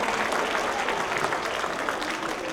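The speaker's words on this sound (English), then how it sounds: "let's give them a round of applause" Applause from an audience at a Hindu Heritage Month launch event, honouring the winning poster entries: a steady, dense wash of clapping hands that fills the whole moment and stays loud and even.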